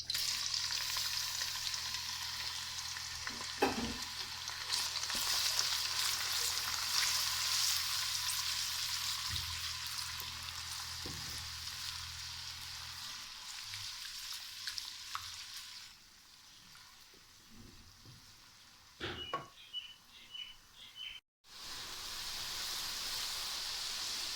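Continuous hissing sizzle of a chopped medium onion frying in a pan, with occasional clinks and stirring scrapes, steady and close throughout.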